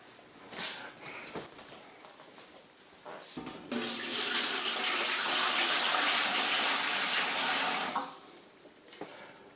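Water pours steadily from a jug into a canning pot for about four seconds, a loud, continuous splashing rush, with quieter handling knocks before and after.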